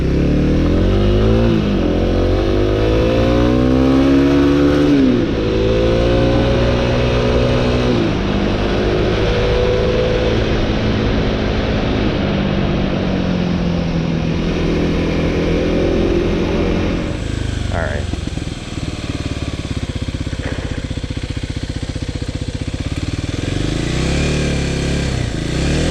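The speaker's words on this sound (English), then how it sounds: "it's just spinning the rear tire. It's not going." A 2026 Kawasaki KLX300 dirt bike engine revs repeatedly as the rear tire spins without grip, rising and falling loud engine pitch close by, with voices talking over it.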